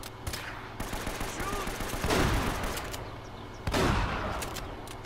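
Rapid gunfire in the video game Uncharted: Drake's Fortune, with two heavy shotgun blasts standing out amid continuous bursts of shooting and faint voices in the background.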